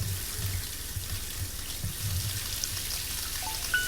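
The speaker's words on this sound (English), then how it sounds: "We can take a shower." Shower water running steadily in the video game Happy's Humble Burger Farm, a soft continuous hiss and patter at moderate volume with no voices.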